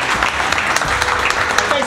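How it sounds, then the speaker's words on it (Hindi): Applause from a classroom audience at an Indian training institute, a brisk burst of many hands clapping with sharp individual claps, loud and close, with a voice talking over it. "जोरदार ताली बजाइए एक बार"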